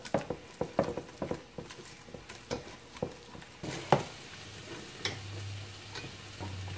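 A whisk beats a mixture in a bowl with a run of quick, light clicking and tapping strokes that thin out toward the end, where a low hum comes in, close and fairly quiet.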